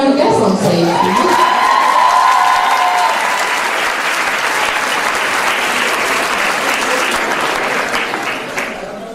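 An audience at a fan convention panel in Paris applauds a new guest arriving on stage, with sustained loud clapping and some cheering that slowly tapers off.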